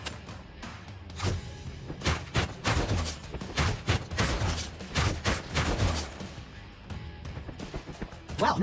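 Rifle gunfire in the Creative Destruction mobile game, a rapid, dense series of loud cracking shots and bursts packed over several seconds, with impacts and crashes mixed in and no talking.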